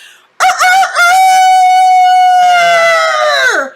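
A single loud rooster crow rings out close by, one long sustained call that trails off at the end.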